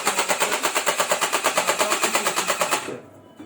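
An M416 gel blaster toy gun fires gel ammo in a rapid, evenly spaced automatic burst of about three seconds that is loud and close, then stops abruptly and leaves a fading tail.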